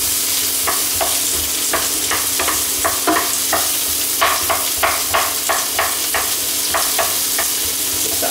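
Onions stir-frying over high heat, a loud constant sizzle with repeated quick scrapes and tosses of a spatula against the pan, close up and with no voices.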